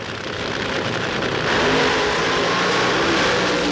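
Drag racing cars launch at full throttle at the 1980 NHRA US Nationals, a loud, continuous engine roar that builds in strength partway through and then holds steady as they pull away.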